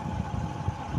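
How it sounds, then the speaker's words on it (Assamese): A motorbike engine hums steadily while riding along a road, a low, continuous rumble with slight fluctuations and no voices. "বাইকত গৈ আছো আমি নামঘৰলৈ।"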